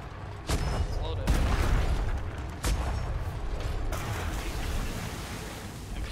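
Ship cannons fire from a schooner in the game ATLAS, several heavy booming blasts with a rumbling decay over constant sea and wind noise.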